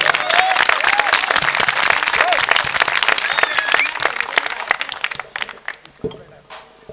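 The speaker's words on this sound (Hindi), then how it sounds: "आप सब लोग एक बार अपने लिए जोरदार तालियां जरूर बजाएं" A crowd at a devotional gathering honoring the goddess Mata bursts into loud applause after a hymn performance, with cheers and voices mixed in. The clapping fades after about five seconds to scattered claps.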